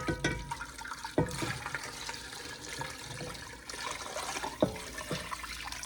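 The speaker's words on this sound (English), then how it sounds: "I'm just gonna do the same amount of water that I did yesterday, like 8 cups of water" About eight cups of hot water pouring into a pot for rendering beef tallow, a steady close gushing and splashing stream with a few clunks of the vessel, continuous throughout.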